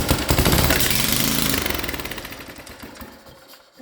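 A Merry Tiller engine with a freshly installed carburetor runs loud and close, a rapid rattling putter that gradually slows and fades over a few seconds.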